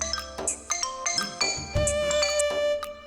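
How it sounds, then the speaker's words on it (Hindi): A mobile phone ringtone plays in a Hindi-dubbed action film, a bright electronic melody of quick chiming notes that ends on a held tone, loud and close. "रिंगटोन अच्छी है।"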